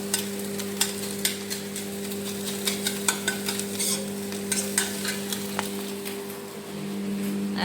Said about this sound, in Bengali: একটু ডিম ভেজে নিচ্ছি